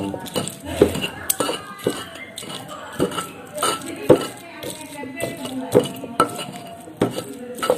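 Spices, shallots, chili and garlic being ground in a village kitchen for sambal tumpang, with repeated rhythmic knocks and scrapes of the pestle against the stone mortar, close and steady.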